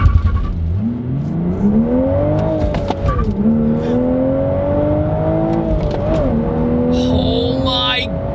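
A 2023 Toyota Supra manual engine revs hard and climbs steadily in pitch as it accelerates through third gear, loud and close, with a brief tire squeal.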